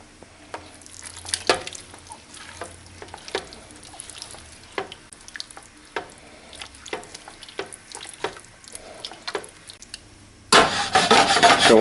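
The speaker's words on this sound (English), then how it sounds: "get that all stirred up with the tongs" Tongs stirring channa masala in a pan, with repeated scraping and rubbing strokes and light sizzling throughout, growing into a louder, denser sizzle near the end.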